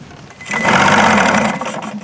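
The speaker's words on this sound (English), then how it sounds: "Emergency pull start time." A small engine is yanked to life with an emergency pull start. It catches after a brief pause and settles into a steady, loud, buzzing run.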